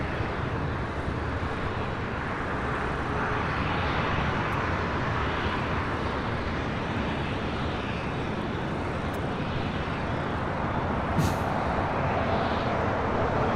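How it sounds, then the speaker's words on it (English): Emirates Airbus A380 jet taking off from LAX bound for Dubai, a steady broadband engine roar holding loud and even throughout with no voices over it. "This is Emirates 216 taking off to Dubai on the A380."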